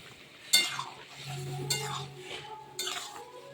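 Vegetables stirred in a pan with boiled water for a vegetarian flour-based dish, quiet with a few distinct clinks and scrapes of a utensil against the pan and a faint simmer underneath.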